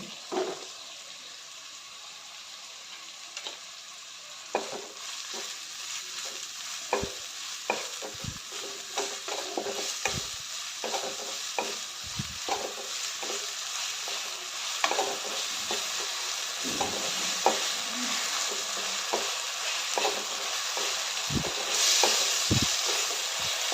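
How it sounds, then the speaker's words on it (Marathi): Onion and tomato roast in a pan with a steady, even sizzle, broken by irregular scraping and stirring clicks from a spoon against the pan, close and without talk. "कांदा आणि टोमॅटो चांगलं लालसर होईपर्यंत भाजून घ्यायचं आहे"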